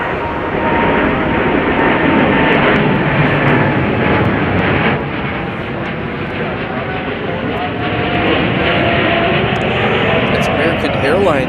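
An American Airlines Boeing 787-9 Dreamliner takes off from Chicago O'Hare for London Heathrow. Its engines make a powerful, sustained roar that swells and eases slightly over the span, and a voice talks over it.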